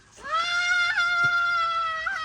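A young child screams in fear on entering a ride during a family outing: one sustained, high, wavering cry that lasts about two seconds, loud and close.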